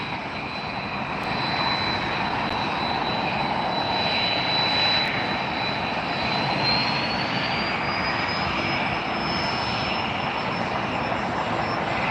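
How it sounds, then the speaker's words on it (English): A jet airliner at LAX airport gives a steady, loud engine roar with a high whine that rises partway through. It carries on without a break for the whole stretch, with no voices over it. "That strange noise that you hear is that jet right there."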